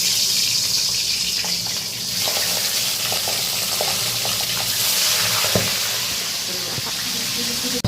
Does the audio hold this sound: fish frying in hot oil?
yes